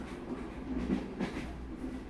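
A train rolls along its rails with a low, steady rumble and soft rhythmic clacks, heard from inside at moderate volume with no voices.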